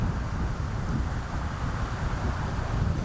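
Steady wind buffeting the microphone at an outdoor disc golf tournament, a continuous low roar with no other sounds standing out.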